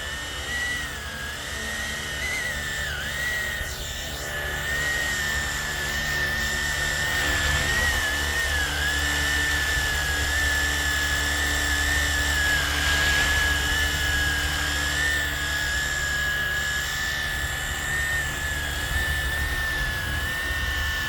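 A Flywing RC model helicopter styled after the Hill HX50 flies on a calm, nearly windless day, its motor giving a steady high-pitched whine with a constant tonal pitch and rotor hum, loud and close throughout.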